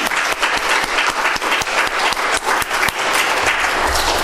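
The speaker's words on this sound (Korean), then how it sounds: "우리 감사의 박수를 한번 올려드릴까요?" A church congregation claps in thanks during a Sunday service, full and sustained applause from many hands, close and loud throughout.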